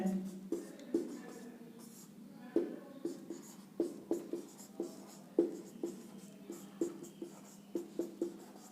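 Pen writing on paper during a maths lesson, a series of close scratchy strokes and taps in an irregular rhythm over a steady low hum.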